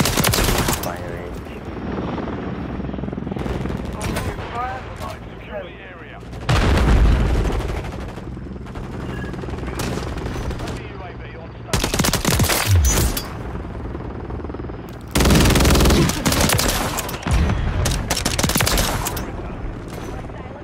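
Bursts of automatic gunfire in Call of Duty: Modern Warfare 3 arrive in several loud, dense volleys separated by brief lulls, with a player talking in between.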